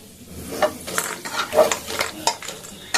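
Two dried red chillies crackle in melted butter in a hot pan, a brief close sizzle broken by a few light metallic clinks of a stirring spoon.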